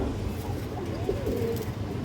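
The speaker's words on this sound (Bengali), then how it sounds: "খুব সুন্দর একটা সাদা মাদি কবুতর উঠতি লাইনের" A white female breeder pigeon coos softly and briefly, close by, amid a steady low murmur of other birds in a loft.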